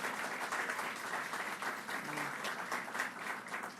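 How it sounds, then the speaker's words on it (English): Applause for a nursing student and her son at the Borough of Manhattan Community College, a steady, fairly distant crowd clapping with individual claps audible throughout. "So let's give a round of applause for both of them."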